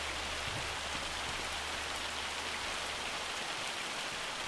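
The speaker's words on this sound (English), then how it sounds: "Ooh, that sounds like hail." Hail pelting down in the Farming Simulator 25 game, a steady dense hiss of falling ice with a low rumble beneath, unbroken and fairly loud throughout, with no voices.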